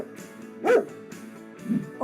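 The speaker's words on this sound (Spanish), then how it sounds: "un perro" A dog gives two clear barks about a second apart, close and fairly loud, over a faint steady background hum with no talk.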